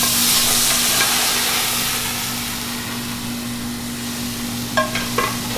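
Garlic ginger paste frying in warm oil sizzles steadily, easing slightly in loudness, with a low hum beneath and a couple of brief clinks near the end.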